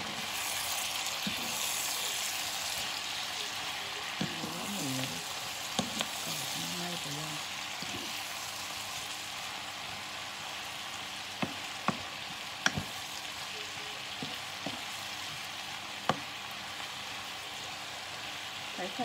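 Mixed vegetables and crispy pork stir-fried in a pan over medium heat give a steady, soft sizzle for the whole stretch, with occasional sharp clicks and scrapes from the stirring utensil.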